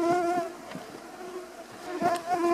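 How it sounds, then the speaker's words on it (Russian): A dense swarm of mosquitoes buzzing close by, a steady high whine with wavering overlapping tones that swell and fade across the clip, with no voices. "Тучи комаров."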